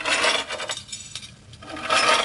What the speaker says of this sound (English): So I started with the rustling keys,